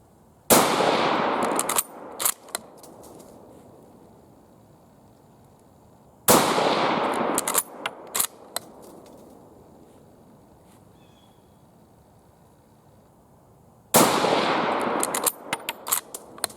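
A Japanese Type 38 cavalry short rifle firing at an outdoor range: three loud, sharp shots spaced several seconds apart, each with a long rolling echo and small clicks and clatter of the action between rounds.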